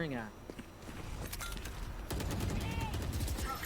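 Rapid weapon fire crackles through a Valorant esports match, including a Stinger submachine gun, in fast bursts with sharp game effects beneath a caster's talk.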